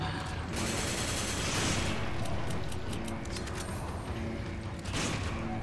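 Shotgun blasts amid dense combat noise in the Resident Evil 5 co-op final mission, loud repeated booms and clattering mechanical sounds over a constant rumbling background.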